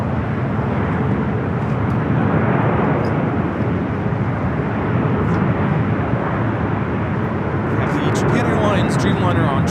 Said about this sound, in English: Dreamliner on short final.